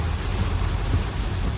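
Heavy rain pours down in Bombay as a dense, steady wash of noise with a low rumble beneath it, continuous and fairly loud throughout.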